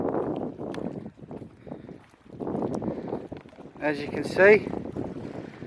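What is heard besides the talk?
wind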